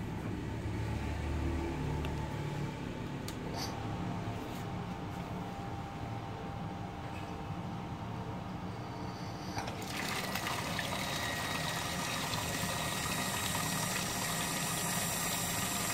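An electric water pump fitted with an automatic pump control switches on and runs with a steady mechanical hum and rushing water, the sound stepping up partway through and continuing evenly.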